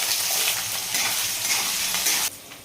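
Onions fry with chana dal, mustard seeds, cumin, dried red chillies and green chillies for a carrot fry, giving a loud, close, continuous sizzle that drops off sharply near the end.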